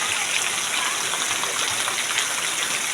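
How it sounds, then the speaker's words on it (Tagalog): Heavy rain falling in a Quezon City neighbourhood, a loud, dense and steady hiss of downpour with no break. "Malakas yung ulan."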